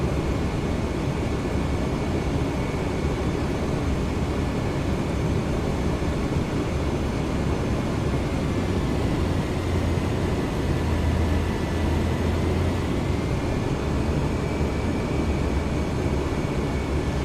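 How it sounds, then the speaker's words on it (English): In Microsoft Flight Simulator 2024, a propeller aircraft engine holds a steady, loud, continuous drone with a low throbbing hum and no pauses. "I like how there's a power band on the prop, like a bloody old Suzuki RM80"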